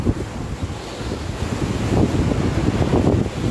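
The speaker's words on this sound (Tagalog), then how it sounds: "medyo malakas yung hangin" Strong typhoon wind from Super Typhoon Goni in Naga buffets the microphone, a steady, loud rushing roar that swells slightly toward the end, with no talking.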